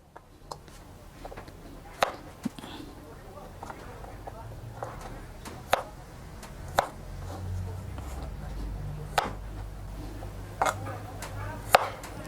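Steady knife chops on a cutting board as water chestnuts are diced, sharp irregular taps every second or so, with low background hum and occasional talk.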